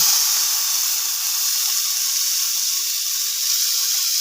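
Chicken leg and other pieces sizzle steadily in hot oil in a brushed pan for an Afghani chicken dish, a loud, continuous bright hiss with no pauses and no talk.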